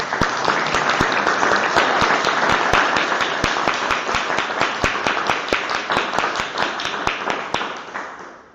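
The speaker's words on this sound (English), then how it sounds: "let's give John a round of applause" A speech contest audience claps for a contestant, loud and dense at first, then thinning and fading away near the end with no talk over it.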